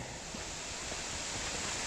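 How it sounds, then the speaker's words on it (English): Heavy rain falling outdoors during a wet hike near a state park waterfall makes a dense, steady hiss that fills the whole clip, loud and close with no break or talk. "It's raining even harder now"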